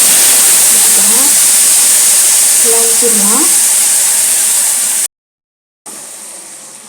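Mustard seeds crackle and sizzle in hot oil for a Tamil fish curry: a loud, steady, hissing fry with a voice faintly under it, briefly cut to silence before the sizzle resumes.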